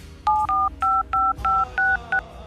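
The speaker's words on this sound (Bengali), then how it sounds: "একটা ফোন দি।" A phone keypad dials a call with seven or eight crisp two-tone beeps in quick, even succession, loud and close, each press clipped short with brief gaps between.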